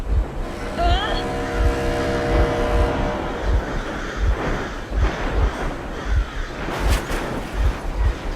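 Vehicle engine running in the Metro Exodus video game, a steady low rumble with rhythmic pulses throughout, mixed with wind and other game noise while a voice speaks over it.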